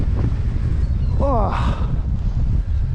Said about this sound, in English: very, very windy